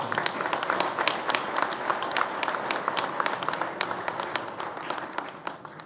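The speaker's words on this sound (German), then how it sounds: "Und dafür geben wir euch nochmal einen riesen Applaus" Applause from the audience at the 2025 Rokit BMW WorldSBK team launch, a steady wash of many hands clapping with distinct sharp claps on top, moderately loud and sustained throughout.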